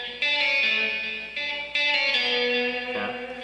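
Distorted electric guitar playing a phrase from a guitar solo, a few sustained notes with effects and reverb, close and clear with no talk.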